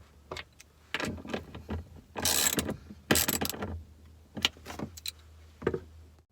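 Wrench tightening fuel filter bolts on an R56 Mini Cooper S, a run of short ratcheting clicks and clanks in irregular bursts, fairly close and quiet.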